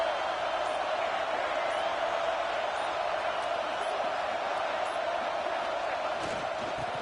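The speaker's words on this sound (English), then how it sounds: "Listen to the crowd energy here in the early going." A stadium crowd in the College Football 25 video game keeps up a steady, dense roar at even loudness throughout.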